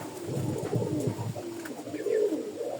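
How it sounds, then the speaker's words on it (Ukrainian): A young female pigeon coos softly nearby, low throaty burbling calls repeating over a quiet background. "Ось яка молоденька голубочка."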